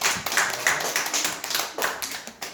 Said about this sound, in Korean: 자, 우리 박수 한번 쳐주세요.